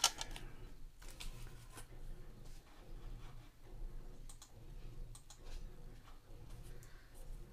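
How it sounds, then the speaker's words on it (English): A sheet of paper is folded in half and creased crisp with a bone folder during a scrapbook brag-book craft session, giving faint, quiet scrapes and light taps that come in irregular bursts. "use your bone folder just to make sure it's a nice, crisp"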